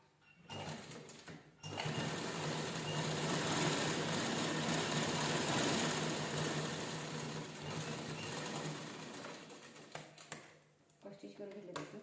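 A sewing machine stitches a fabric cover for holding holy books, made from a blouse, with a steady close whirring run of about nine seconds between quieter handling sounds at the start and end.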